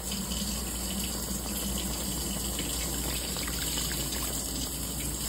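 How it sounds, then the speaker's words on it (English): Water runs steadily into a pan for smothered pork chops in a home kitchen, a continuous close trickling pour with no talking. "Put a little bit more water in here."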